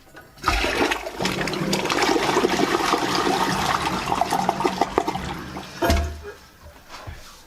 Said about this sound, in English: Now we'll give her a flush.